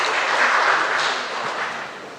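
Audience applause at an Indonesian general election commission ceremony handing over 2019 vote results, a steady wash of many hands clapping at close range, short and even, with no voices over it.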